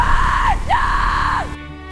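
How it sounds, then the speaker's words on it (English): A woman screams in anguish, two long sustained wailing cries that rise, hold and fall, loud and close, followed by a brief quiet tail. "She screamed, she begged,"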